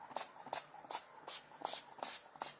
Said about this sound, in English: First, let us do finishing spray, definitely for this.